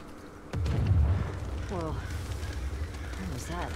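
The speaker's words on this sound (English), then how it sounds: "That was an explosion, Ellie." A deep boom from a distant explosion rolls through The Last of Us Part 2 gameplay, followed by a low lingering rumble while a voice speaks over it.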